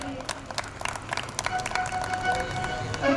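Audience applause at a celebration event, scattered claps rising into a moderate, uneven patter from a crowd, with some voices and murmur mixed in.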